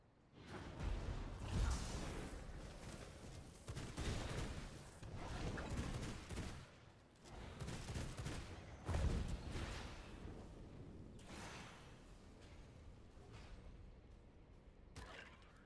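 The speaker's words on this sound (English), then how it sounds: "Enemy artillery. Comes down." Enemy artillery barrage in a video game, a dense run of booming blasts and whooshing impacts rolling on for the whole stretch, loud and continuous with several heavier peaks.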